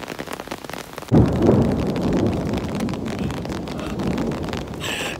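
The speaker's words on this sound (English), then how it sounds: "the thunder is rumbling like it's no one's business." Thunder cracks suddenly and rolls into a long low rumble over steady rain and wind buffeting the microphone outdoors, loud and close.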